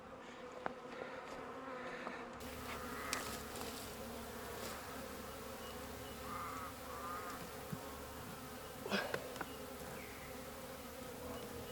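Honeybees buzz steadily around an open beehive, a quiet continuous hum with a few individual bees passing close, heard alone without talk.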